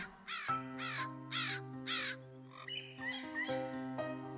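Cartoon crow cawing in a dense forest: four loud, evenly spaced harsh caws over a sustained musical drone, then softer chirps and melody.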